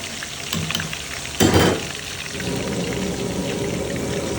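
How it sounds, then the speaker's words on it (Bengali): Hilsa fish frying in a pan, a steady close sizzle with a brief louder burst of spattering partway through, no voices. "একদিকে ইলিশ ভাজা হচ্ছে"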